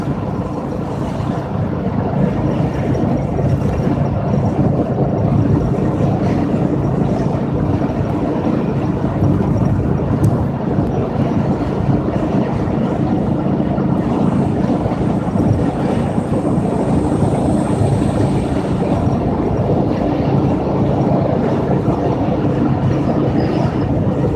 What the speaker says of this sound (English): just little things like that when driving an old VW bus at 55 miles an hour